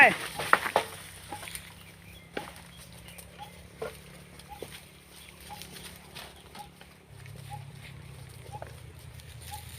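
Cows being driven into their pen in the evening, with faint scattered hoof clops and shuffling steps over a quiet outdoor background, a few louder knocks near the start and low rumbling noise later.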